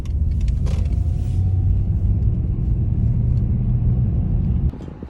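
A car being driven through Reykjavik, Iceland, heard from inside as a steady low engine and road rumble lasting several seconds, with a brief whirring sound near the start and the noise dropping off sharply just before the end.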